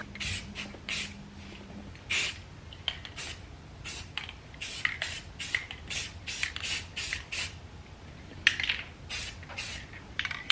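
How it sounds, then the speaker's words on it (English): Repeated short bursts of aerosol spray paint, hissing in quick irregular pulses close by, with faint clicking between them. "I'm gonna spray paint these"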